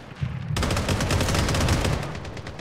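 Gunfire in the battle royale game Blood Strike erupts abruptly: a loud, close string of sharp shots cracking in quick succession for about two seconds.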